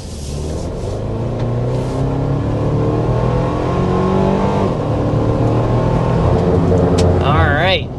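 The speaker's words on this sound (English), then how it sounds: "first we want to go ahead and start with a hard acceleration" An engine roars under hard acceleration in a 2025 Toyota 4Runner SR5 SUV, pitch climbing steadily through the gears to 60 mph from inside the vehicle, loud and continuous for the whole stretch.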